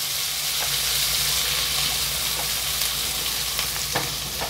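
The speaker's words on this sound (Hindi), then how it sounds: "इसको भी अच्छी तरह से हम सॉटे कर लेते हैं।" Sliced green capsicum, two small long-cut peppers, sautéing in a pan for Hakka chili garlic noodles, giving a steady close sizzle with occasional stirring clicks and scrapes, no voices.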